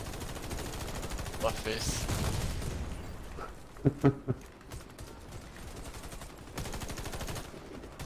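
Automatic weapon fire in the free-to-play shooter Warface on Xbox One: rapid bursts of shots and mechanical clatter at moderate volume, while people talk over the action.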